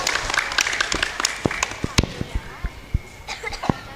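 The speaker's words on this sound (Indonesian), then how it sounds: "Tepuk tangan." Applause from parents and guests at a school Qur'an recital and graduation ceremony, scattered claps of moderate loudness with people talking nearby.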